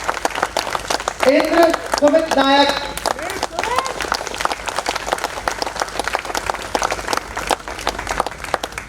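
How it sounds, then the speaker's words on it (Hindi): An audience at the close of a workshop performance of Rashmirathi keeps up a crackling round of applause while an announcer speaks names over it. "तालियां बजती रहनी चाहिए।"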